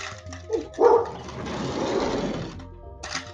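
A dog on a porch gives a few short barks and yips near the microphone, then a stretch of rustling, with no talking.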